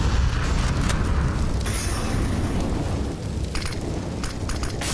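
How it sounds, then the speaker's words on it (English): Grenade blasts in a CS:GO pro match between Fnatic and BIG on Overpass, heard as a continuous loud, dense rumble of booms and crackling debris. The bursts overlap with no clear gaps between them. "A lot of grenades being thrown."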